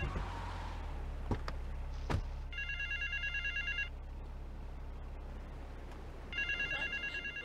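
Telephone ringing in the GTA Vice City video game: two bursts of an electronic trilling ring, each lasting about a second, over steady game background noise, with a couple of sharp thuds before the first ring.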